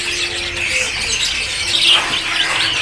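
High-pitched chirps and squeaky bird calls at a Pramuka bird market stall selling Bangkok zebra doves (perkutut), several birds calling over a busy background hum.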